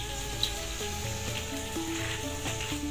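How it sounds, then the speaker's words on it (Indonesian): Spice paste for a tuna and green chili dish fries in a pan, giving a steady, moderate sizzle with faint tonal background sounds and no speech. "bumbunya udah selesai digoreng-goreng tuh"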